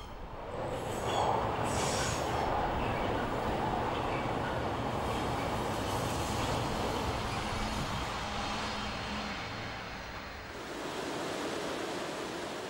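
A regional railcar rolls along the Görlitz–Zittau line beside the Neisse river, a steady loud rumble of wheels on track with faint squeals, sustained throughout with no voices.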